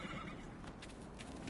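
A horse in the video game Dragon Age Inquisition whinnies and neighs loudly and continuously, close up, with faint hoof clip-clops mixed in and no talking.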